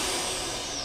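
A Class A truck's air brakes set with a short, steady burst of broadband air hiss, heard close and lasting under a second.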